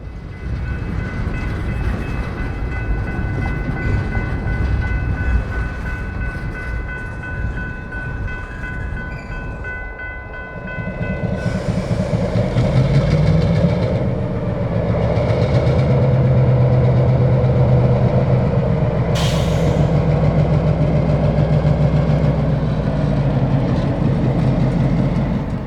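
A 70-year-old short line locomotive works a train in a rail yard, its loud engine rumbling steadily close by, a tonal whine fading partway through before the engine swells louder as the cars move, with one brief sharp high squeal.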